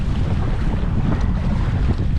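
Strong wind gusts across an open sea kayak on Pacific waters off Fiji, a steady loud rushing roar with buffeting against the microphone and faint wave wash beneath, no one speaking.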